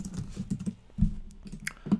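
Keys tapped on a computer keyboard while entering code, an irregular run of close, light clicks with a few heavier strokes and no talk.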